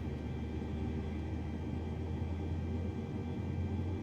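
An airliner engine, engine number 2 of an A320neo, spooling up in Microsoft Flight Simulator 2020: a steady, even rumble and broad roar throughout, no voices.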